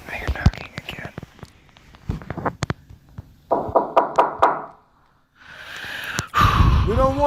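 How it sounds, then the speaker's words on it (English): Knocking sounds in an old house at night, a quick series of four or five sharp raps, heard amid whispering and breathy voices. "Now you're knocking again."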